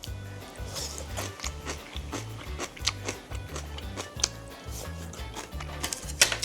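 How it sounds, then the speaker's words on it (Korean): Crisp, crunchy chewing of young radish kimchi with napa cabbage, eaten with dumpling soup, comes as a steady rhythmic run of close, moist crunches repeating about twice a second. "이 아삭아삭한 열무 얼갈이 김치"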